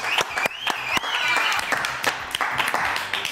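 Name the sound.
studio audience applause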